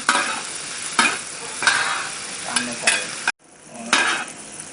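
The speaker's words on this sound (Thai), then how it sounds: "แล้วก็เอามาคลุกด้วยกันนะคะ" Mussels tossed with lime juice and seasoning sauce are stirred in a pan, giving repeated scraping, sizzling strokes about once a second, close and moderately loud, with a brief cut to silence partway through.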